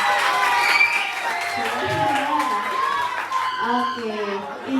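Audience claps at a lively morning IPPNU Bojonegoro youth gathering, a moderate wash of applause mixed with voices talking and a little laughter throughout.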